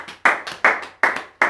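Church congregation clapping in unison, four loud, sharp bursts of hands striking together in a steady, evenly spaced rhythm, each hit decaying quickly before the next.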